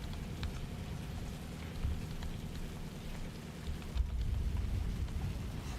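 Steady rain falls during a storm in a storm chasing video game, a continuous dense patter with low rumbling underneath, heard alone without talk.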